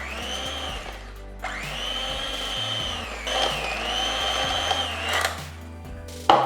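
An electric mixer blending sponge cake batter with beaten egg whites, a loud close motor whine running in long bursts with short pauses and pitch shifts as the load changes.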